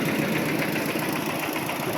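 Engine of a small modified farm tractor running a rotary tiller, a steady loud close-up drone with a knocking, vibrating mechanical chatter throughout and no talking.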